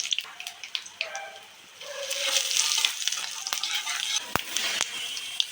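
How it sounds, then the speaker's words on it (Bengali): Dry chillies, kalonji and cumin seeds frying in hot mustard oil in a kadai, a steady close sizzle with scattered crackles and a few sharp utensil taps, no talk. "কড়াই গরম হওয়ার পরে আমি সর্ষের তেল দিয়েছি, আর দিয়েছি শুকনো লঙ্কা, কালা জিরে, গোটা জিরে ফোড়ন দিয়েছি।"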